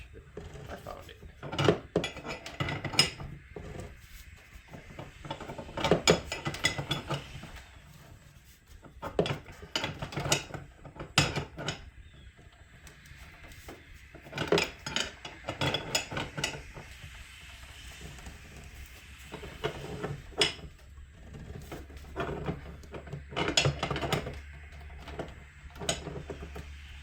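Metallic clicks and clanks of a wrench working nuts on the gas fittings of a 30,000 BTU ventless greenhouse heater come in irregular bursts, close and fairly quiet, while someone talks over them.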